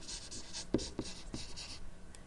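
Handwriting with a pen or pencil on paper, soft scratchy strokes and a couple of light taps, close and quiet, with no talking.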